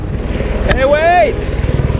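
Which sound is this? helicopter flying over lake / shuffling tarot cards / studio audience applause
helicopter flying over lake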